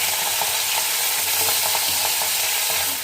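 Fresh fish fries crisp in hot oil in a pan, a dense, loud, steady sizzle and crackle close by with no voices.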